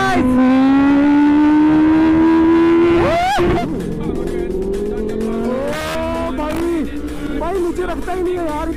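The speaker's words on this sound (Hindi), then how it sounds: "Aliyan rider after accident first wheelie pop up करे अपनी सुपर बाइक पे" A superbike engine revs hard as the rider pops a wheelie, rising in a loud sustained whine, dropping sharply, then climbing again through several throttle blips.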